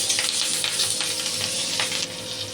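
Green chilies frying in hot oil in a pan while being stirred, a loud close continuous sizzle with soft scraping strokes, no talking.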